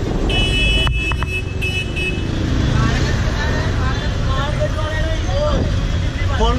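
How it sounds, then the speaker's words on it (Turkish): Car horns honking in dense Old Delhi traffic, several loud beeps and toots from nearby vehicles over a constant engine rumble, with voices in the background. "Korna çalmanın bir trafik kuralı olduğu ülke Hindistan ve Hindistan'ın başkenti Yeni Delhi."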